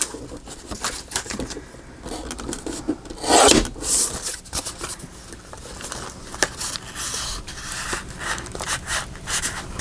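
The side of a handmade journal is trimmed, making close, rough rasping and scraping strokes in an uneven rhythm with one louder, harsher burst partway through.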